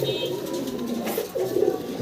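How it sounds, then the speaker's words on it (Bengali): Pair of large Mundian exhibition pigeons cooing softly in a cage, with low repeated coos over a steady background hum, fairly close and faint. "বিশাল বড় সাইজের ভিতরে একজোড়া এক্সিবিশন কবুতর আছে"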